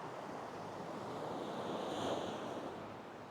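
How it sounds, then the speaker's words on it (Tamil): Sea waves wash up a beach on the Amalfi Coast in Italy, a soft, continuous rushing hiss that swells gently partway through and then eases, heard faintly and alone. "தண்ணி வந்து கொஞ்சம் இப்போது வேகமாக வருது."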